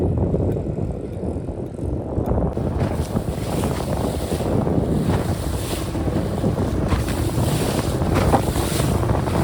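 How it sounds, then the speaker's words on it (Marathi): Strong wind at sea buffets a fishing boat out for pomfret, a constant loud roar of wind noise over the microphone mixed with splashing waves and the boat's rumble. "वारा बघू शकता किती आहे, जाम वारा आहे आज."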